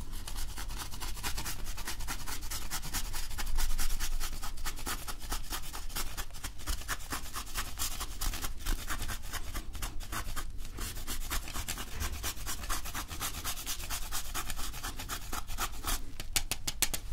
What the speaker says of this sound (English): we'll just grate just a little bit of chocolate on there.